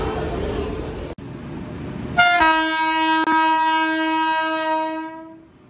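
Nandan Kanan Express standing at a railway platform: a long, loud, steady train horn blast with a rich tonal chord sounds over platform noise and fades away near the end.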